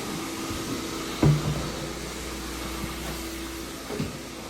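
A Vortex Lite carpet cleaner works over an area rug with a steady, moderately quiet motor and suction hum, broken by a sharp knock near the start and a softer bump later.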